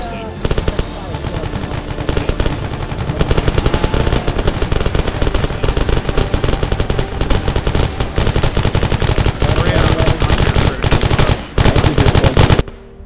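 Machine gun fire in the military shooter game Arma 3, a dense, continuous loud stream of rapid automatic bursts lasting most of the clip, with faint voice chatter mixed underneath.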